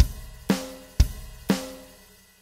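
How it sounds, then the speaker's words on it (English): A brief drum loop made for testing reverb impulses: four hits spaced half a second apart, kick-like thumps alternating with brighter snare strikes, loud, dry and close, with no voices. "now we have a very short loop of drums"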